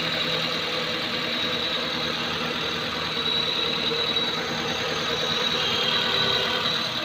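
An older-model Maruti Suzuki Wagon R four-cylinder engine idles close by after a valve cover gasket replacement, a steady, even mechanical drone with a faint high whine and no voices.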